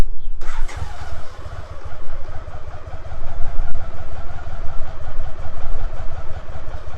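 A BMW K75S motorcycle that sat for ten years cranks and fires, then settles into a steady, slightly rough idle with a constant low engine rumble, close and loud with no talk.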